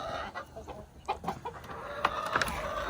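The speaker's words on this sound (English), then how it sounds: "Chickens!" Several chickens cluck and squawk in short, irregular bursts, close by, with a few sharper calls standing out near the end.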